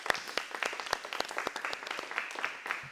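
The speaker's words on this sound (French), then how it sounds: "on peut encore l'applaudir, s'il vous plaît" A small audience applauds a speaker, sparse distinct claps from a handful of people in a quick uneven patter, close and clear, lasting a few seconds.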